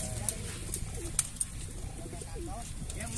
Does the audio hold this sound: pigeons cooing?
yes